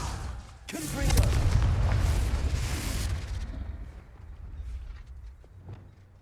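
A Confringo blasting spell explodes in Hogwarts Legacy with a loud, deep boom that rolls on for about two seconds, then fades into a quieter rumbling tail.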